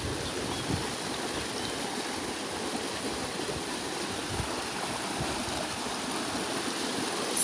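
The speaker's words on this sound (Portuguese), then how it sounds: "eu vim mostrar para vocês o córrego" Steady rushing and gurgling of flowing water from a stream, continuous and fairly close, with no voices.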